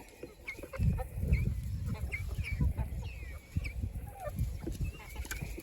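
Backyard homestead chickens cluck and murmur close by in their coop, a string of soft low clucks with a few higher chirps over quiet background.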